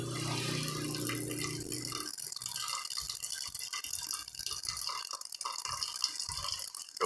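Water is poured into a pot of sushi rice, measured to three cups of grain: a fuller rushing pour at first, then softer trickling and scattered drips, fairly quiet and close.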